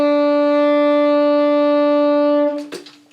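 A tenor saxophone sustains a single steady E for about two and a half seconds, full and loud, then stops and leaves a few faint handling noises.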